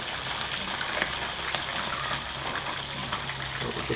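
Tilapia fillets frying in a pan of hot oil, a steady dense sizzle with small crackles running continuously throughout, moderately loud and close with no talking.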